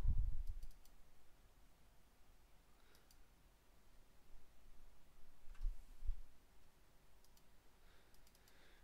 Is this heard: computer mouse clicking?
yes